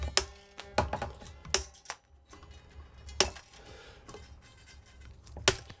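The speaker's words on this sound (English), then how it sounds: "So we get a pair of wire cutters. I'm going to cut the strings." Wire cutters snip through old worn guitar strings, giving sharp isolated metallic clicks spaced irregularly with faint handling noise between, close and fairly quiet.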